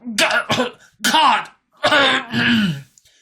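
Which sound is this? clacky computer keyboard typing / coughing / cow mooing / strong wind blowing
coughing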